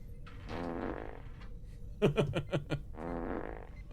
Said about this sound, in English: You got the fart thing on there